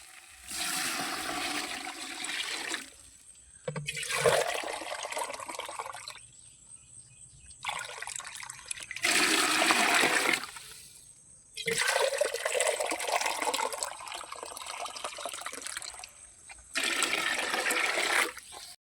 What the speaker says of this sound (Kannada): ಒಂದೂವರೆ kg ಅಕ್ಕಿಗೆ 3 ಲೀಟರ್ ನೀರು ಹಾಕೊಳ್ಬೇಕು